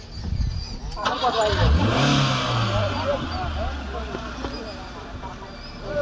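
A car engine turns over and revs close by, its pitch rising and then falling as the vehicle pulls forward, with voices talking over it.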